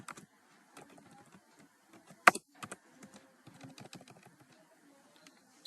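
Code being typed on a computer keyboard: irregular bursts of close, crisp key clicks with short pauses and one sharper, louder keystroke partway through, no voices.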